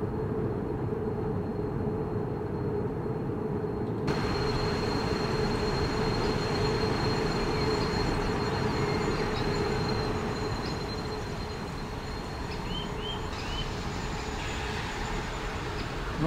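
Freight train locomotive rolling slowly in Train Simulator 2020, a continuous rumbling drone of engine and rail noise with faint squeals, heard steadily throughout.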